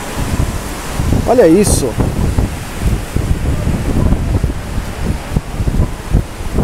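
Strong seaside wind buffets the microphone in a loud, continuous roar, with someone speaking briefly over the gusts.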